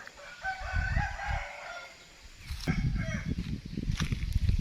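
Chickens cluck around a farm coop while a rooster crows nearby, the loud calls rising over a background of murmuring birds.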